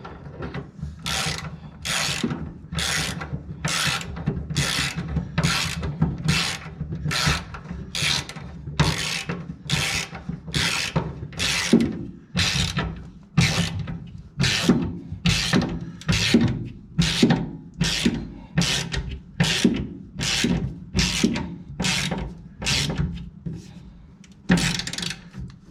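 A ratchet wrench clicks in quick, regular bursts up close, working back and forth in a steady rhythm for a long stretch as parts on a motor are tightened, with a short pause partway through.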